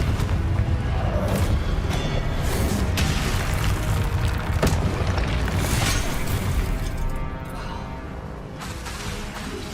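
Confringo spell blasts in the wizarding game Hogwarts Legacy, a loud, dense wash of booming explosions and crashing rumble that holds steady before easing slightly toward the end.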